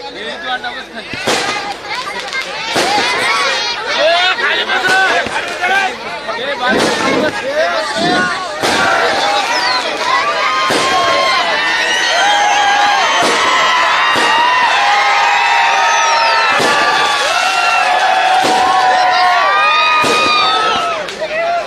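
Firecrackers burst repeatedly in sharp, loud cracks over a noisy cheering crowd at a political speech rally, explosions scattered irregularly throughout.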